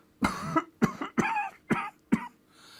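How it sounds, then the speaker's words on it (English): Five separate coughs come in quick succession, close and fairly loud, each a sharp burst with a short rasping tail and brief silences between. "Coughing,"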